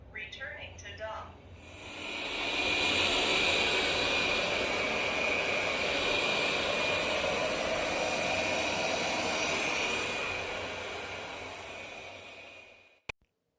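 A loud, steady whooshing roar of a Roborock S7 MaxV Ultra robot vacuum dock emptying a dustbin, rising after a brief opening noise and running for about ten seconds before cutting off abruptly.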